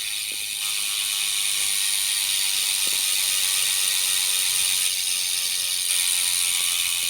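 A Bontrager Aeolus Pro 5 bicycle wheel hub freewheels with a steady, rapid ratchet buzz of clicking pawls, close and continuous with no voices.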